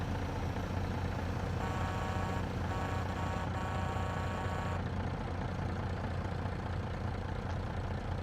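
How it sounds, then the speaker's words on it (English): In a Farming Simulator 22 session, a diesel truck idles with a steady low rumble, accompanied by a faint tonal hum that drops out partway through, and nobody speaks. "Love the sound of that idling diesel."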